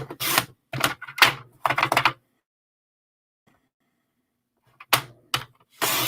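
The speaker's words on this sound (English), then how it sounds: "I'm going to go ahead and cut 5 of them." A paper trimmer slices cardstock into narrow strips for card making, producing crisp swishing cuts in quick bursts, four close together, then a quiet pause before two more strokes.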